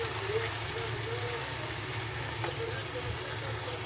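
Minced keema stirred with tomato and ginger-garlic paste, frying in a pan with a steady soft sizzle and faint scraping, heard close and continuous.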